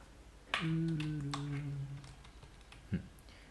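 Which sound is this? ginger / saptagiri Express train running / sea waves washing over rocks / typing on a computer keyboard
typing on a computer keyboard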